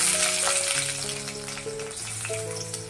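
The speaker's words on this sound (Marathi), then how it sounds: "तेल चांगलं तापून द्यायचंय। 1 चमचा मोहरी घातली, त्यानंतर लसूण" Mustard seeds and garlic sizzle in well-heated oil for a kurdu wild greens dish, a close, steady crackle and hiss with faint tonal hums underneath and no voice.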